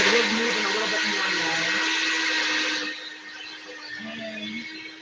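A blender motor whirs steadily while it blends a basil and cucumber sugar scrub, loud and high-pitched at first, then dropping to a lower strained hum as the load shifts, with a voice in the background.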